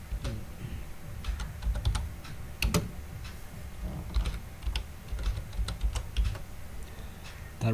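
A full name is typed on a computer keyboard while signing up for Twitter, producing quick, uneven runs of close, crisp key clicks with short pauses between bursts.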